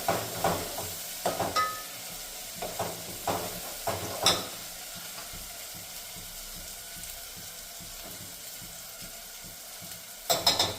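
Undhiyu gravy with red chilli powder simmers and sizzles gently in oil, a soft steady hiss broken by a few clinks and stirring knocks.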